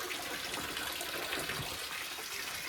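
Spring water pours steadily from a pipe fed by a pool uphill at Mshralkhevi in the Georgian mountains, a continuous near splashing rush with no pauses.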